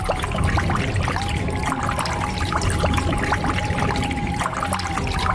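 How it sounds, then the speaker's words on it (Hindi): Water trickles and pours steadily as a sound effect in an animated horror story, a continuous close splashing stream over a faint steady tone, with no speech. "अरे क्या तुम्हारे नीचे से पानी कहाँ से आ रहा है?"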